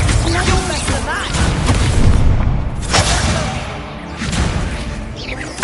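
A Confringo explosive spell in Hogwarts Legacy sets off loud, close, booming blasts that rumble and crash across the scene, with a voice speaking over the battle noise.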